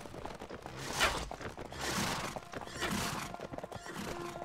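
Horses in the Mount & Blade: Warband game whinny loudly several times over a clatter of hooves and battle noise.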